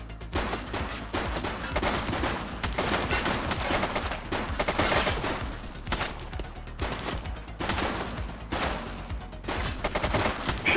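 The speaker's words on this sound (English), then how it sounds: "Shots fired!" Rapid bursts of gunfire in The Precinct police video game, loud overlapping automatic shots rattling in clusters throughout, with brief gaps between volleys.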